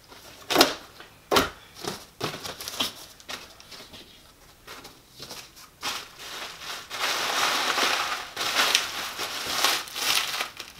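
Cardboard box holding Mayones guitars being opened, with sharp tearing, crinkling packaging and scattered taps, then a longer rustling stretch of wrapping being handled, close and moderately loud with no voices.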